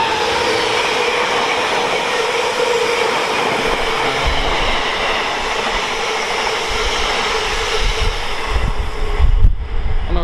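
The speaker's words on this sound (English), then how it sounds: "Next in, another class 66 on Freight Juicy." A class 66 diesel freight locomotive hauls a freight train past on the West Coast Main Line at Tamworth, a loud, steady rolling roar of engine and wagons that swells slightly near the end.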